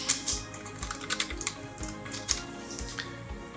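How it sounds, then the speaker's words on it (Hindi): Fingers type on a computer keyboard at close range, a quick irregular run of light key clicks with a few heavier taps, entering text during a lesson on office and design software. "एंड पे टाइपिंग कर सकते हैं आप, कुछ भी आप लिखना चाहते हैं।"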